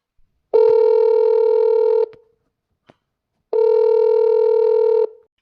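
Two long, steady electronic telephone tones sound on a phone line, each lasting about a second and a half, separated by a quiet gap, clear and close.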